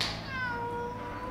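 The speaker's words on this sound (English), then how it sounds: "Meow." A cat lets out a single drawn-out meow at close range while waiting to be fed ocean fish food, the call sliding down in pitch over about a second.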